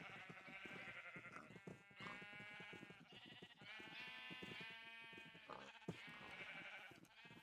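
A black sheep bleats in a video game, with several wavering, nasal bleats following one another in quick succession over steady background sound and no talk.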